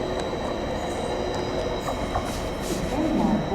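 A British Rail class 755 train, unit 755401, running through Cambridge station, heard as a steady, loud rumble of rail noise throughout with a slight swell near the end; faint talk may sit underneath.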